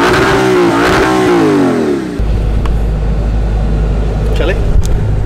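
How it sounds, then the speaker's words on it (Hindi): An Audi R8 engine revs hard up and down close by, then drops to a steady loud low rumble as the car pulls away. "Let's have a ride on Audi R8। Crazy sound man"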